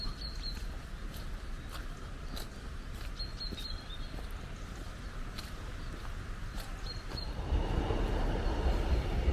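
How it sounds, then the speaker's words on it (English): A train rumbles along the line toward a station beside a river in a Welsh valley, a steady distant roar that swells louder near the end while small birds chirp thinly over it. "There's the train heading up to the station"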